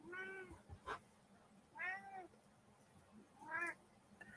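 A domestic cat meows three times with clear, drawn-out harmonic cries, spaced about 1.5 seconds apart, close and fairly loud against a quiet background.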